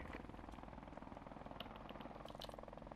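A helicopter in Call of Duty Modern Warfare Remastered, a fast rhythmic rotor chop thrumming steadily and fairly quietly throughout, with faint game effects scattered over it.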